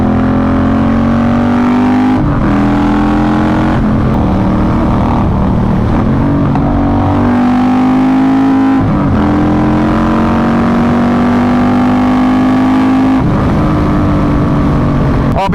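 A Yamaha Striker motorcycle's exhaust rumbles loud and close while being ridden, a deep steady drone that rises and falls with throttle changes and gear shifts over about fifteen seconds.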